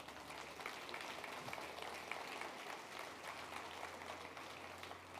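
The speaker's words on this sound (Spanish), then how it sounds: "dale un aplauso fuerte al Señor." A church congregation applauds loudly, a steady wash of many hands clapping that holds evenly for several seconds, heard from a distance with a low hum beneath.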